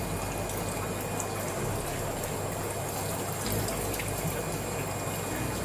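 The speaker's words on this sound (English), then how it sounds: "That's 10 times more water that was coming over before." Water pours steadily over a repaired aquarium waterfall in an alligator gar tank, a continuous soft splashing trickle, fairly quiet and without talk.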